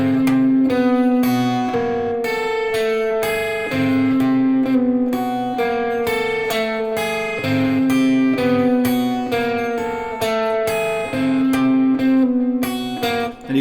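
Fingerstyle guitar picks out a descending line, clear plucked single notes in a steady rhythm, close and alone with no voice over it.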